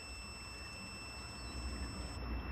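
A multimeter in continuity mode beeps while its lead touches a fitting on a digger body that has a dead short. The high steady tone runs faintly and continuously under a rumbling, noisy background.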